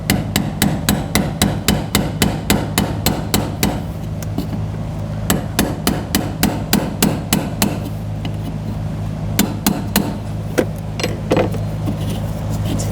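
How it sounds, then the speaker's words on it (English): A hammer strikes a brass punch again and again to loosen the fuel tank lock ring on a 2000-2006 BMW X5, as sharp metallic taps in rapid steady bursts, close and loud, with a brief pause between runs. "Now just using a brass punch and a hammer."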